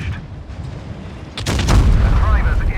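A tank cannon fires in an armored-vehicle video game and hits an enemy tank. A sudden deep boom rolls into a sustained rumbling blast midway through, loud and close, with voices over the game sound.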